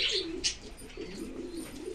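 Pigeons coo softly in a large, open loft, low rolling calls repeating through the clip with a few faint chirps above.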